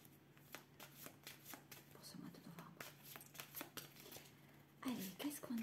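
Tarot cards are shuffled by hand for a reading, a close series of quick riffling and slapping bursts, and a voice speaks quietly near the end.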